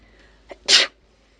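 A single loud sneeze with a short intake of breath just before it, close up, then quiet.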